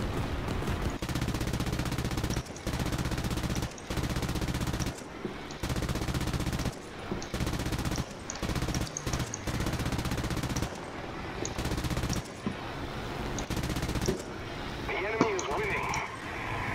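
Machine gun fire from the War Thunder video game, heard as loud bursts of rapid gunfire broken by short pauses, with other game sounds mixed in throughout.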